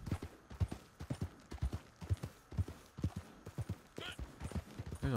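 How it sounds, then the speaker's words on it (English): Steady clip-clop of horse hooves trotting at a brisk, even rhythm in the video game Red Dead Redemption 2 Online, fairly faint and unaccompanied by talk. "There's a horse over here."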